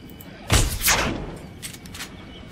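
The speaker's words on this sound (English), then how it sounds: "Okay, that was just a test shot." A single gunshot fired in the dinosaur park game Jurassic World Evolution, a sharp close report followed by a second thump about half a second later, then a quiet tail with faint background sounds.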